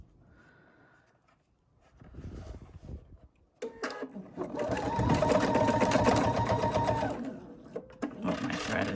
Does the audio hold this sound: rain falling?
no